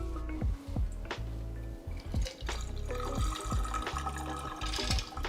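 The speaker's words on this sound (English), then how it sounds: "we're gonna pour the cocktail" A cocktail poured into a glass, with clinking, gurgling liquid and dripping spills in uneven bursts, close and moderately loud with no talk.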